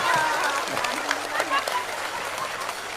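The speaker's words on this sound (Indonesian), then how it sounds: "Tepuk tangan untuk kuntet" Audience applause at a Ramadan religious sermon, a broad patter of many hands clapping at moderate loudness under a busy crowd murmur, with some voices mixed in.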